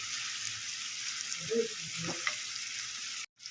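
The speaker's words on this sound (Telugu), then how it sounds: "ఈ ఉల్లిగడ్డలు అనేది గోల్డ్ కలర్ వచ్చేదాకా ఫ్రై చేసుకోవాలి" Chopped onions and green chillies fry in a pan for bottle gourd curry, a soft steady sizzle with a few quiet stirring clinks, cutting out briefly at the end.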